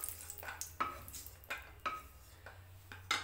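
Roasted almonds are scraped and lifted out of a frying pan, making a faint series of about seven irregular metallic scrapes and clinks of a utensil against the pan, with no voices.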